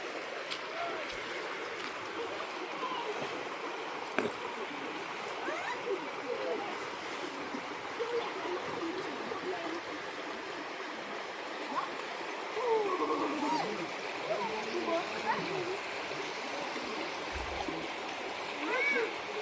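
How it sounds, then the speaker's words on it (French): River water flowing steadily outdoors, a continuous rushing and splashing wash with occasional louder splashes, moderately close and without speech. "Là, on est à la rivière."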